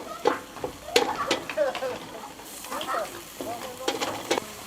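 A spoon stirs cayenne and paprika into a pan of paella with black tiger prawns and chicken: soft sizzling under scraping strokes and a few sharp clacks, with a voice faintly present.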